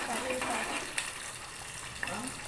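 Cumin, mustard seeds and dal frying in hot oil for a tempering make a continuous close sizzle, with a couple of small pops and a faint voice underneath.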